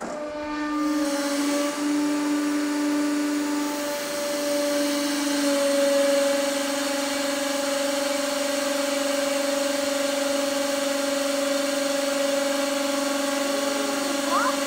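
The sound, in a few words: hydraulic press crushing three salt bars with welded spaghetti tool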